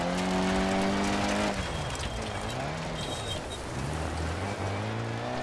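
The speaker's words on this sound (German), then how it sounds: "Ich habe ein bisschen zu stark abgebremst." A rally car braking hard in the DiRT Rally racing game, its loud engine whine sliding downward in pitch as it slows, then revving back up with gravelly road noise underneath.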